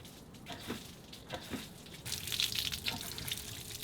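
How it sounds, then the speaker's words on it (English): Water from a hose blasts through a car's drain hose in short rushing spurts, growing louder and steadier toward the end, with no talking. "Then you just give the hose a bunch of quick bursts."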